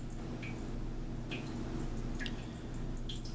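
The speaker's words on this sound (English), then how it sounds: "You can hear the drip in the kitchen." Water dripping in a kitchen during a Texas winter storm, a few faint, sharp drips scattered irregularly over a low, steady background hum, fairly quiet and distant.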